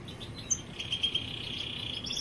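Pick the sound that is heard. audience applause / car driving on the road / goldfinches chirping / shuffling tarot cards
goldfinches chirping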